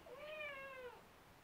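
A single cat meow, fairly quiet and clear, rising then falling over about a second, alone in a quiet room.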